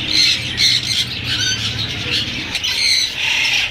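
Green cheek conures, red factor and yellow-sided, squawk and chatter amid other caged birds at a Sunday bird market in Bahawalpur, with a busy, continuous stream of shrill calls close by.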